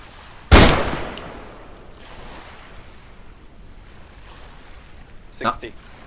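A single sharp, loud gunshot from a Groza rifle chambered in 7.62x39 in the game Deadside, with a long decaying tail, followed later by a fainter, shorter report under low ambient noise.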